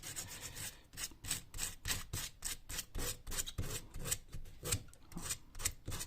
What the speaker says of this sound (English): you can just run over it quickly with your sandpaper again